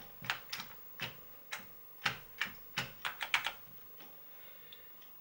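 Scattered, uneven clicks of fingers typing on an Amiga 1200 keyboard, about a dozen crisp keystrokes in quick bursts with short pauses, close and fairly quiet, no voices.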